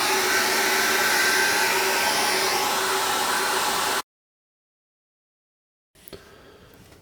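A hair dryer blows steadily to dry acrylic paint, a loud close whirring roar for about four seconds that cuts off abruptly into silence, followed by faint handling noise.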